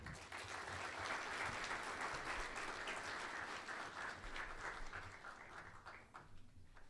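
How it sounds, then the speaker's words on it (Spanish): An audience claps warmly in a lecture hall to welcome a speaker to a history talk on archaeology in Mexico's Second Empire. The applause is steady and continuous throughout, then thins out near the end. "recibamos con un caluroso aplauso al maestro Bertrand Lobjoa"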